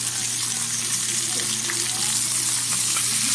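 Chicken sizzling loudly and steadily in a pan after being flipped, a dense crackling hiss over a low steady hum with light clatter.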